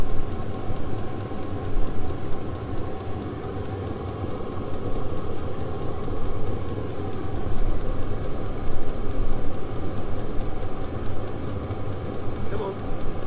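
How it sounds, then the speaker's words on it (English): A 12-volt diesel heater's fuel pump and fan run steadily, with a dense, continuous mechanical whir and hum that stays fairly loud and even throughout, with a faint voice in the background. "Pump and the fan."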